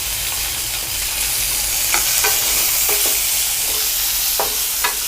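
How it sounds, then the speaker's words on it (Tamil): Tomatoes and small shallots sauté in a hot pan with a steady broadband sizzle, broken by several distinct scraping stirs of a spatula across the pan; close and alone, with no talking. "இப்போ இது கூட வந்து நம்ம தக்காளி, கொஞ்சமாக அந்த சின்ன வெங்காயத்தையும் நம்ம போட்டு வதக்கிக்கலாம்."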